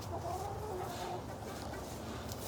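Farm chickens cluck softly at a distance against a steady outdoor background, low-level with no talking over them.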